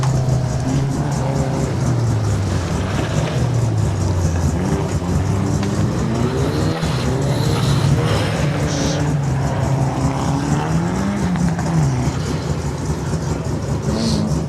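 A Datsun 1600 race car climbs a hillclimb course, its engine note rising and falling through gear changes at mid distance, a steady motor drone with wavering pitch carried over the whole stretch.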